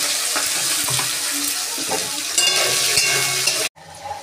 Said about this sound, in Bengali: আমি এখন দিয়ে দেবো কেটে রাখা আলুগুলো, ছোটো ছোটো করে লম্বা করে কেটে রাখা আলুগুলো দিয়ে ভেজে নেব।